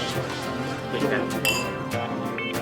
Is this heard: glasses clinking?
yes